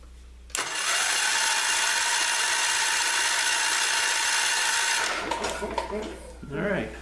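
A spark test on the ignition of a 1981 Wheel Horse C85 engine: a sharp onset, then a steady loud buzzing rattle for about four seconds before it cuts off, with a few knocks afterward.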